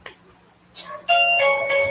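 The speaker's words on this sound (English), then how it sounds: "there's the bell" A doorbell chimes in a family home as relatives arrive for Christmas, a sustained ringing tone following a brief knock-like onset, fairly loud and clear with no talk over it.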